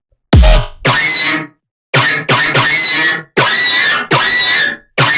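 A Serum synth bass preset nicknamed elephant, played around D2 in a free Serum preset called Gunshots. It comes as six loud, bright, growling notes with short gaps, the first starting with a deep low hit.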